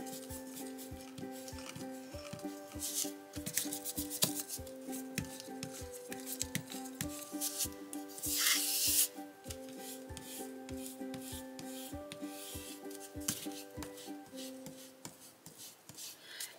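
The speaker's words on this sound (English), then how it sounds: "just kind of erasing, really lightening up the corners with this kneaded eraser" A kneaded eraser rubs over pastel on paper to lighten the edges, faint quick scrubbing strokes close up, with soft background music beneath.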